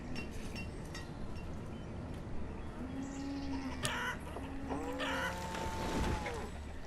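Chickens cluck softly in a Banished village-building game, a few short tonal calls rising over a steady ambient bed of birds and background sound, moderately quiet and unaccompanied by speech.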